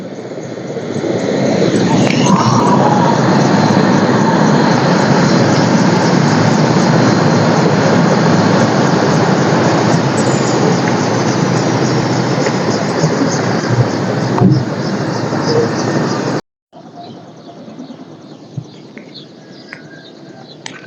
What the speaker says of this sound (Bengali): এই যে হেলিকপ্টার পেশেন্ট নিয়ে আসছে হেলিকপ্টার করে